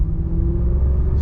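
A Maserati Coupe rumbles low and close as it pulls away in first gear, a steady deep engine tone over a brief moment.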